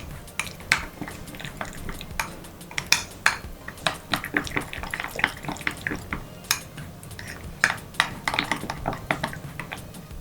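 Chili powder and turmeric get mixed in a bowl with a spoon: quick, irregular metallic scrapes and clinks of cutlery against the dish, close up and repeated throughout with no talking.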